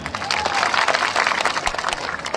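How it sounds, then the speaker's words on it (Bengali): A crowd claps at an outdoor speech at a local Bangladeshi union gathering, with a dense, steady patter of many hands and some voices mixed in throughout. "তার জন্য আমরা তালি দিই"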